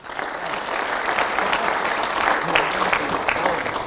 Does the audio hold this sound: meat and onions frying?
no